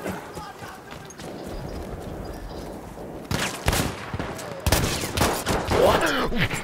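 Rapid automatic gunfire from a machine gun in the Battlefield 1 video game, dense bursts rattling close and loud after a quieter stretch, with players talking over the action.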